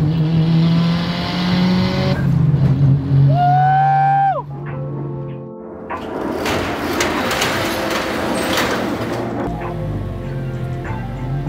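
A Mitsubishi Lancer Evolution on budget coilovers revs and accelerates hard through several rising gear pulls, the engine note climbing and dropping at each shift, then fading to a rougher, lower rumble.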